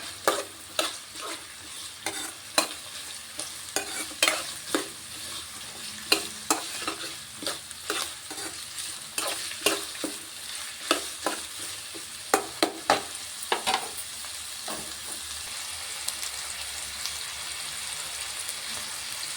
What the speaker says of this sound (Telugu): ఉల్లిపాయలు పచ్చిమిర్చి దూరగా మగ్గాలి